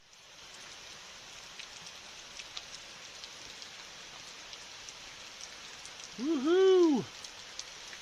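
Steady rain falls on a homestead, a soft continuous hiss with scattered drops, while near the end a person lets out a loud, rising-and-falling cheer.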